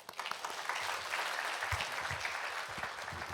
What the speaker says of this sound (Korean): 환영과 사랑을 담아 박수로 맞이하겠습니다